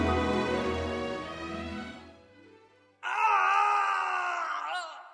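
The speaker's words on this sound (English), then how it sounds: "Holmes and Watson hear a terrible scream from Dr. Roylott's room." A dramatised scream rings out from a room in a spoken story, a long groaning wail that fades, then after a brief silence a second loud, sustained high scream, both close and alone.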